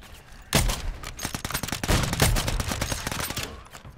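Rapid bursts of automatic gunfire in Call of Duty multiplayer, starting abruptly with a loud volley and continuing as dense, close rattling shots with brief gaps, fading slightly toward the end.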